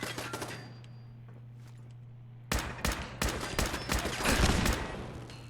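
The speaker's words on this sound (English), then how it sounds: "You're shooting at me. Hey, in a firefight it gets hectic." Gunfire in a hectic Fallout 4 firefight: a few scattered shots, a quiet hum, then a loud flurry of rapid overlapping shots close by, with no talk.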